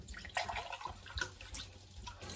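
Water running into drinking glasses as they are filled to the top, a faint, soft trickling and splashing that goes on without any talk.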